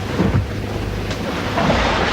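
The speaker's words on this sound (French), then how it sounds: "Voilà qu'il va falloir négocier un orage avec son cortège de bourrasques et de vagues menaçantes." Thunderstorm at sea near Cape Horn: a steady, loud roar of wind gusts and rumbling fills the scene, with a faint crack of thunder midway and no voices.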